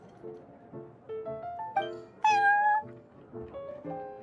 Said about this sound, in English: having a cat take care of our new customers would be quite a nice touch